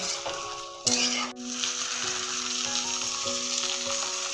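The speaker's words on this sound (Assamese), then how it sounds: "যেতিয়ালৈকে তেলখিনি শুকাই নাযায় তেতিয়ালৈকে ভাজি থাকিব লাগিব।" Pigeon meat fries in oil with a steady, close sizzle, broken early on by a couple of sharp clattering knocks.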